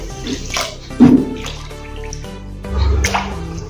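Water is poured from a glass into a pan holding sugar and milk for rasgulla syrup, giving a short splashing gush followed by a second, softer pour, close and clear.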